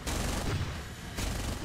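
Aircraft in War Thunder firing four cannons at once in two bursts, the first long and sustained, then a short pause and a second dense burst, loud and close.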